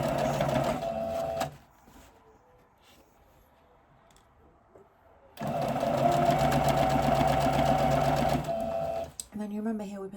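Sewing machine stitching a trouser pocket corner, running in two bursts, one short and one about three seconds long, with a steady close whir and a quiet pause between them.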